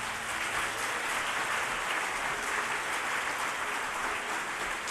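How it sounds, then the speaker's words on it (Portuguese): Church congregation applauding in praise of Jesus, a steady dense wash of clapping from many hands filling the room, continuous and fairly even throughout. "Aplauda o Senhor Jesus por isso."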